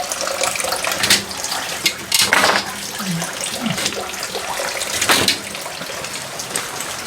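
A sump pump with an automatic float valve pushes water through hard-plumbed pipe, a close, continuous rushing splash with a few louder gurgling surges.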